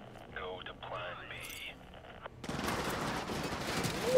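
Gunfire in the video game Modern Warfare 2 Remastered on the Cliffhanger mission, a dense loud burst of automatic shots that starts abruptly after a stretch of radio-style chatter and continues to the end.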